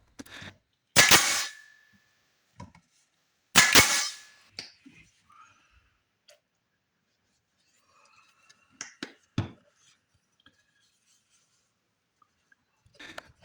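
A hammer driving finishing nails by hand into scrap wood: two sharp, loud strikes early on, then scattered lighter taps and knocks with quiet gaps between them.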